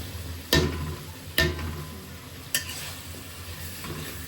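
Three clattering stirs break out over a soft sizzle as peas and potatoes go into a hot pan on a gas cylinder stove, each scrape sharp and close at uneven intervals.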